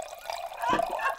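Vino Nobile di Montepulciano 2016 wine pours from a dispenser in a short, steady liquid trickle, close and fairly quiet, with no talk over it.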